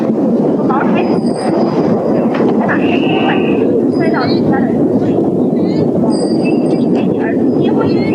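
An express train from Beijing arriving in the city of Harbin in 1985, with a continuous loud rumble of rolling wheels, squealing brakes and clanking carriages, while a voice speaks over the noise.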